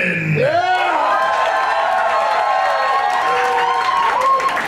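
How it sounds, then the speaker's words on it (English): A loud crowd cheering and whooping at a beer-drinking competition show, with rising shouts and yells over applause, sustained and close throughout. "Let's give him a round of applause."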